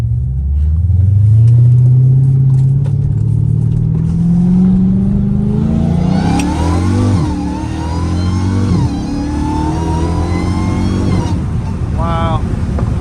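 A straight-piped Dodge Challenger Hellcat Redeye rumbles loudly on a highway, its engine climbing steadily under acceleration, then several rising rev sweeps with a high supercharger whine riding above the exhaust, close and dominant throughout.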